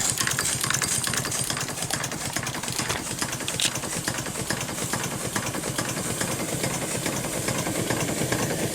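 A miniature SAR class 15F steam locomotive sitting in steam, giving off a continuous hiss with a fast, irregular mechanical chuffing and knocking, close and fairly loud with no talking.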